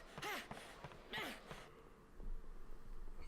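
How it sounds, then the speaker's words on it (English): A Dark Cloud 2 character breathing hard: two quick heavy gasping breaths close together near the start, then quieter panting and soft background game sounds. "At least now it makes sense that he's breathing hard."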